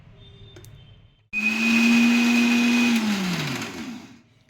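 A mixer grinder jar grinds sesame seeds with cashews, almonds and a little sesame oil, a loud steady motor whine starting abruptly after a quiet lead-in, then slowing and winding down near the end.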